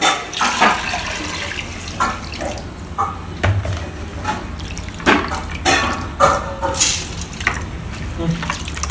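Water runs and splashes in bursts as it is drained from rice, pouring and draining with intermittent drips and clatter of a vessel close by.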